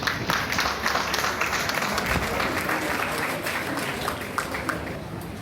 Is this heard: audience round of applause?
yes